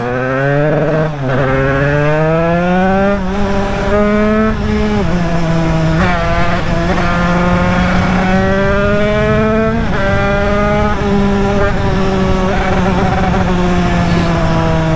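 A tuned 1996 Derbi moped's small engine drones loudly and steadily up close, its pitch climbing and easing with the throttle as it rides along.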